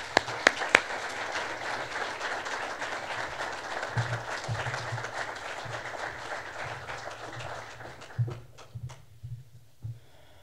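Steady applause from an audience at a university press conference welcoming a new athletics director, sustained dense clapping that fills the room for several seconds before thinning into scattered claps.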